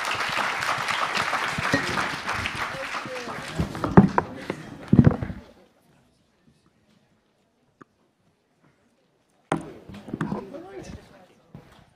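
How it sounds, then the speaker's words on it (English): Conference audience applause for a panel at a forum, loud dense clapping that tapers into a few scattered claps and fades to silence. A brief new burst of sound and movement follows near the end. "let's have another round of applause for our panel"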